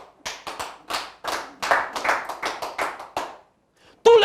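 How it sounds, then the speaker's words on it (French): A short burst of hand clapping, sharp irregular claps close by, fading into silence before a brief tone. "Il faut l'applaudir."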